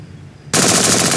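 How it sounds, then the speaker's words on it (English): Rifle fire in the video game Henry Stickmin: a loud, sustained burst of rapid automatic shots that starts abruptly after a short quiet lead-in and runs steadily to the end. "The rifle."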